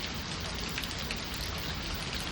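Heavy rain mixed with drizzle falling during a Texas storm, a steady dense hiss of drops on surfaces that stays loud and even throughout, with no voices.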